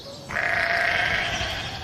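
A sheep bleats in a field, one long, loud wavering call rising in after a brief moment of quiet and fading slowly, with no talk.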